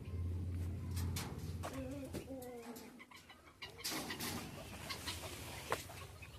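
Chickens cluck and call in a home garden, with a low rooster-like note early on and scattered fowl sounds throughout, fairly close and moderate in level against outdoor background noise.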